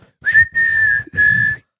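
Three sharp, steady whistle blasts in quick succession, loud and close, with short gaps between them.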